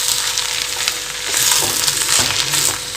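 Coriander and mint leaves are stirred into tomato rice in a hot pan, giving a steady close sizzle with soft scraping stir strokes that grow a little louder partway through, with no voices.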